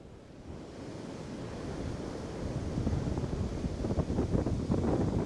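High ocean waves crash over a harbour walkway, a loud, continuous roar of surf and wind noise that builds and grows rougher toward the end, with no voices.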